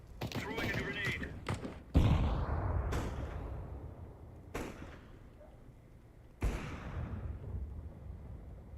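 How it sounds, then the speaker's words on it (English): Grenade blasts in a video game land as a few sharp, booming bursts, each with a rumbling tail, spaced a couple of seconds apart among rapid gunfire-like cracks at the start. "Throwing a grenade."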